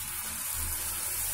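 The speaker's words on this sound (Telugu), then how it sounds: "ఇప్పుడు వాటర్ వేద్దాం" Water pours steadily into a pan of mango curry for a fish dish, a soft continuous hiss and gush heard close and fairly quiet.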